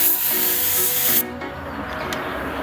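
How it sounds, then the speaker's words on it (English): Spray gun fogging a coat of preparation onto a panel, a steady close hiss for about a second that then cuts off, leaving a softer background hiss. "You fog a coat of preparation, that way the material gets pretty good just to the panel"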